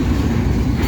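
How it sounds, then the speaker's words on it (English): A Norfolk Southern freight train rolls slowly through Homestead, a loud, close, continuous low rumble of railcars and wheels with no talk over it. "And that NS train's going quite slow."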